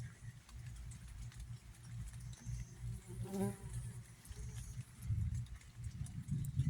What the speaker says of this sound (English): I suspect them bees will start moving back in here.